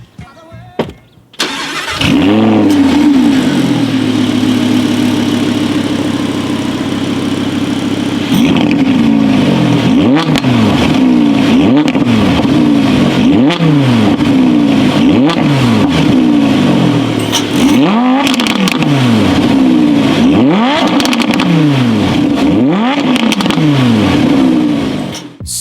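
An Audi's exhaust barks to life and then revs hard again and again, each rising snarl dropping back before the next one. The pulls come in a quick repeated rhythm and sound loud and close, with no talking.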